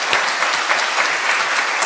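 An audience at a Chinese crosstalk comedy performance claps in a dense, sustained burst of applause that stays loud and even throughout.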